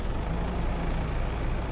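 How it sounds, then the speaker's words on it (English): A fuel refinery runs in a Farm Sim 22 farming game, a steady low machinery drone with a faint regular high-pitched pulsing ticking above it, continuous and even throughout. "It's just the sound of the fuel refinery still running."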